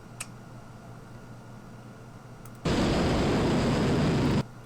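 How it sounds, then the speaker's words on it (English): Rocket engine ignition in Kerbal Space Program, with turbo pump spool-up and engine start: quiet hiss, then an abrupt loud broadband roaring burst lasting under two seconds before cutting off sharply, alone. "what you're hearing is the turbo pump spooling and the engine starting all in"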